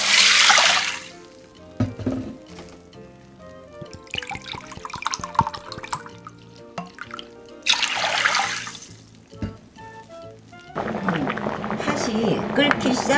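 Water pours into a cooking pot holding red adzuki beans for sweet winter solstice red bean porridge, coming in splashing bursts with pauses between them, over a steady background.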